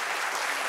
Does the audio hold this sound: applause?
yes